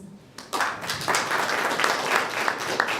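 Audience at a blood transfusion society conference breaking into applause, a quiet start, then a full round of clapping with distinct individual claps standing out.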